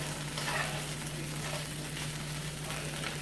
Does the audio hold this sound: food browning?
yes